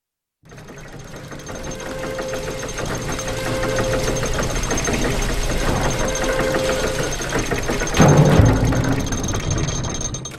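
A machine's engine in The Book of Unwritten Tales 2 runs with a dense, steady clattering and whirring, like busy gears and ratchets. A heavier clunk lands near the end.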